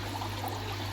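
Pond water bubbles and trickles out around the edge of a Bakki shower filter, a steady soft gurgling flow with a low hum underneath.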